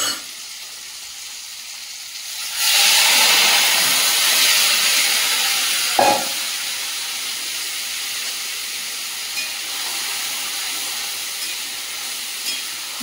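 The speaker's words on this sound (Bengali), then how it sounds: "তেলটা এদিকে গরম হয়ে গেছে, মাখিয়ে রাখা মাছগুলো দিয়ে দেব" Marinated fish dropped into hot oil bursts into a loud, steady sizzle and hiss that holds on after a brief splash of the pieces going in, close and without talk.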